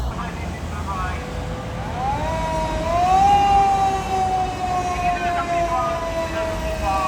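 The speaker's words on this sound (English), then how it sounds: "Never really a good sign when you see multiple fire vehicles." A fire engine siren wails in long rising and falling sweeps, loud and fairly close over steady traffic rumble, while a person talks nearby.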